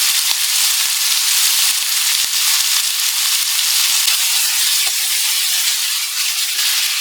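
Chicken with salt and turmeric simmers in a covered pan on low heat, giving a loud, steady hiss of steam and sizzle dotted with small scattered pops throughout.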